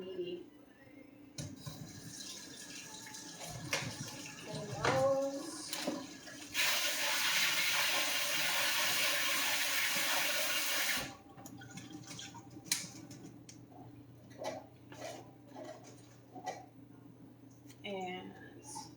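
Tap water runs into a sink to rinse sliced mushrooms, a steady splashing rush lasting several seconds between quieter clinks, drips and handling noises, with a person talking in the kitchen around it.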